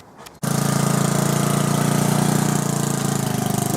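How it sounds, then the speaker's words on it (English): A small tractor engine starts up abruptly and runs steadily close by, a loud, even chugging drone with a rapid regular pulse that holds for several seconds, with no talking. "That tractor is really earning its living."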